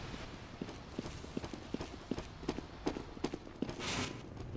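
Horse hooves clip-clop in a steady walking rhythm inside a video game, each hoof strike a sharp knock over a busy background, ending with a brief rushing burst.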